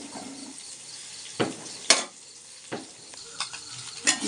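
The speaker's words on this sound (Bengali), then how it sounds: "নুন আর গোলমরিচের গুঁড়ো দেব। এটা ফ্রাই করে নেব।" An egg fries in a pan seasoned with salt and pepper, with a steady sizzle broken by a few sharp scrapes and clinks of a utensil against the pan.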